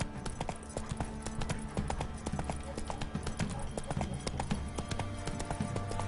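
Horse hooves clip-clop steadily in the video game The Witcher 3, a close, continuous clopping rhythm under ambient game sound and talking voices.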